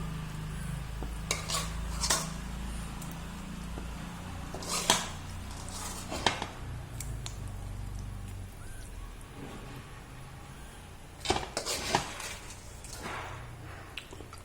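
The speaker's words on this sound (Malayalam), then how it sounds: "അപ്പം നമുക്ക് പതുക്കെ അതിലേക്ക് മീനിടാം." Fish pieces going into a pot of boiling Kerala fish curry, with soft splashes, scrapes and metallic knocks of pot and utensil recurring at intervals over a low steady simmer.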